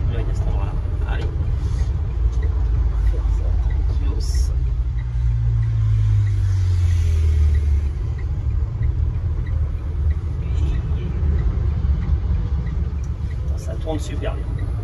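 Citroen Ami small electric city car driving through Paris streets, a steady low road rumble and tyre noise filling the whole stretch with a brief swelling hum near the middle, while people talk inside the cabin.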